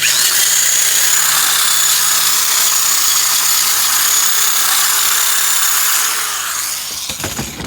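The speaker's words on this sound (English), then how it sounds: "Got the heads over here, cleaning them up with the wire wheel" A wire wheel grinds flash rust off the cylinder heads of a 1994 Mustang Cobra SN95, a loud, steady abrasive whine with no speech that holds for about six seconds and then tapers off.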